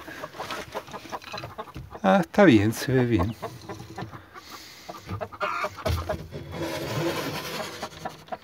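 An injured black hen kept alone in a farm pen clucks now and then, a few short calls rising close by while a person talks over the scene.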